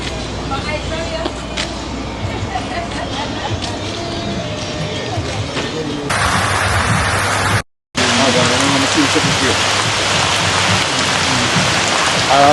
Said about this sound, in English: But we got some rain is coming. The rain is dewing right now.